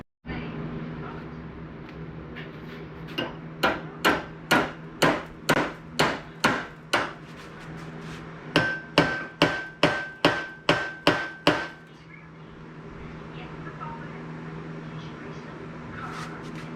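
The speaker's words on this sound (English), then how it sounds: "Let me tap it with the hammer and see what happens." A hammer strikes a stuck steering wheel on a Roper 16T garden tractor in two steady runs of about eight sharp, ringing metal taps each, close by, with a low hum underneath.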